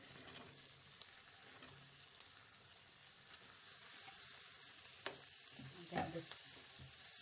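Chopped ridge gourd sizzling and frying in a pan with turmeric while it is stirred, a soft steady hiss with occasional scrapes and knocks of the spoon, fairly faint and without talk.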